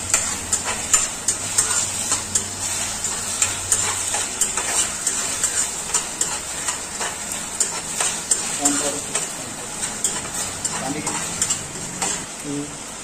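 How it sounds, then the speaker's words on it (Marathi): Red chillies fry in a pan for chilli chicken, with a loud, steady sizzle close by and the repeated scrape of stirring throughout. "रेड चिल्ली बघा, मस्त फ्राय करून घेतोय आता."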